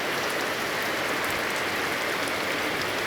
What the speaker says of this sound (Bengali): প্রচুর পরিমাণে বৃষ্টি হচ্ছে আমাদের এখানে।